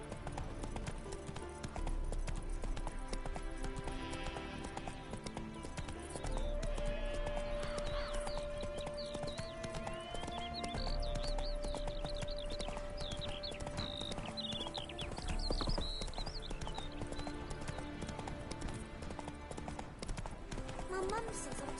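Roach the horse gallops in The Witcher 3, with steady rhythmic hoofbeats clip-clopping at a moderate level for the whole stretch. Game music and spoken dialogue run over the hooves.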